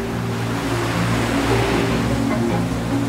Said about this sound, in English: Our voyage now takes us through this treacherous channel, whose ferocious currents and whirlpools have terrified mariners for generations.